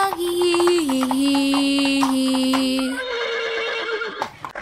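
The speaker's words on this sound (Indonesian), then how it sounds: "Kuda bilang hihihihihi." A horse neighs in a long, loud, wavering whinny inside a children's farm-animal song, the cry stepping down in pitch before fading out near the end.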